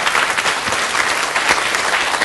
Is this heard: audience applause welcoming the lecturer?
yes